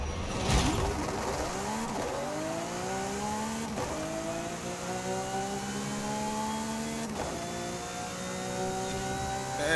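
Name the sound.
Lamborghini SC20 accelerating in Forza Horizon 5 video game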